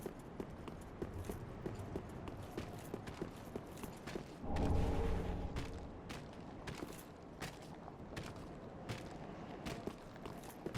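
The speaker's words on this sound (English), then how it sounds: "I hear footsteps." Footsteps of a skeleton pathing through the Ringed City in Dark Souls 3 tap steadily and quickly, a string of light hard clops at moderate distance, with a brief low rumble swelling near the middle.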